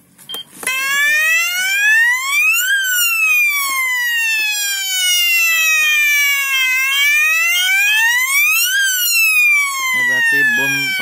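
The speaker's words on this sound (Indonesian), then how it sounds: "dia akan bunyi alarm ini seperti ini." Timer alarm on an airsoft skirmish bomb kit: a loud, close electronic siren wailing up and down in slow sweeps, continuous for about ten seconds with no talking.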